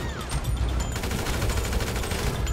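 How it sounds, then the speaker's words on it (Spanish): Rapid bursts of gunfire aimed at the player in GTA V crackle in a dense, continuous fusillade of overlapping shots, loud and near, with no voice over them. "Oh, me están disparando"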